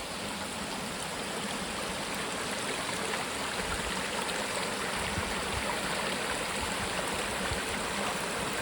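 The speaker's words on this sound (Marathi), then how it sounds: "किती वेगामध्ये हे पाणी खाली दरीच्या दिशेनं वाहत जात आहे" Fast-flowing water pours out of the source pool of the Nira river, a dense, unbroken rushing roar that stays loud and steady throughout with no voices.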